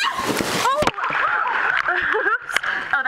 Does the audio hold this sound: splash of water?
yes